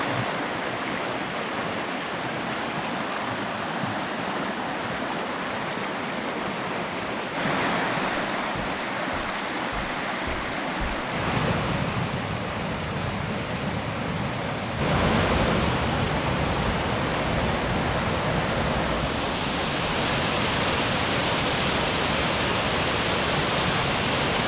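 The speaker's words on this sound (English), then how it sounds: "First waterfall on our trip, Mohawk Falls." Continuous roaring rush of Mohawk Falls on the Falls Trail at Ricketts Glen, Pennsylvania, loud and steady throughout with no voices.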